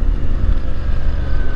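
A CFMOTO 450MT motorcycle engine running while being ridden on a touring road: a steady, loud, low rumble that continues without a break, with no talking.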